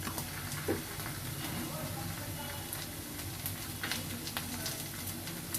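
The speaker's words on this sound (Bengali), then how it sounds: "তো শ্রিম্প পেস্টটা দিয়ে আমাদেরকে শ্রিম্প পেস্টটা ভেজে ফেলতে হবে এরকম করে।" Shrimp paste fries in a pan for fried rice, giving a low, constant sizzle with scattered crackles and faint scraping throughout.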